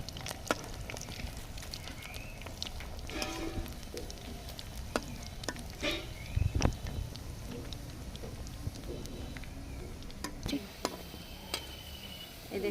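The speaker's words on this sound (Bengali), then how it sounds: "এই যে গুঁড়াগুলো সুন্দর করে উল্টে পাল্টে নেড়ে চেড়ে ভেজে নেব।" Ground spice powder is stirred and fried in a pan, a constant sizzle broken by frequent scraping clicks of the spoon against the metal.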